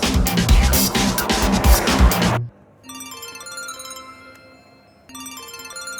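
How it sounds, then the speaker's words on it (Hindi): A phone ringtone plays as a repeating electronic melody with a gap between bursts, coming in right after a loud stretch of noisy action. "ये मुझे क्यों फोन कर रहा है?"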